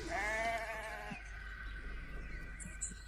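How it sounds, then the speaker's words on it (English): A sheep bleats on railway tracks, one wavering cry close by, followed by faint quieter sounds over a low rumbling background. "There were sheep on the tracks"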